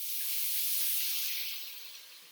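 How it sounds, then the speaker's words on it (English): Red wine poured into a very hot pan over high heat while cooking a Cajun-style chicken and andouille sausage stew gives a loud, steady sizzling hiss that fades slightly toward the end, with no talk. "I'm going to turn it up to high heat. And I'm going to pour my wine right in."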